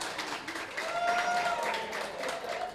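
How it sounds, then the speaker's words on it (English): A crowd applauding steadily for a few seconds, a dense wash of claps with a faint tonal whine running through it. "Anthony Alfredo, give him a round of applause"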